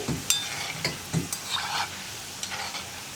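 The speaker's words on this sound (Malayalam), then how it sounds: "അപ്പോൾ ഞാനൊരു സ്പൂൺ ഉപയോഗിച്ചിട്ട് പതുക്കെ ഒന്ന് ഇതുപോലെ ഇളക്കുന്നുണ്ട്." Cheeda snack dough balls being stirred with a spoon in hot frying oil in a pan, a few soft scraping stirs over a steady low sizzle, close and quiet with no talking.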